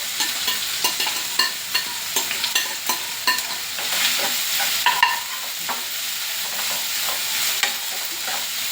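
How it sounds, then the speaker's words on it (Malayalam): Sliced onions frying in hot oil in a pan for an egg fry curry, a steady sizzle broken by repeated sharp stirring scrapes and clicks, close and fairly loud, with no voices. "ചൂടാകുമ്പോഴേക്കും നമുക്ക് സവാള ഇട്ട് കൊടുക്കാം. സവാള ഇട്ട് കൊടുക്കണേ. എണ്ണ ചൂടായിട്ടുണ്ട്."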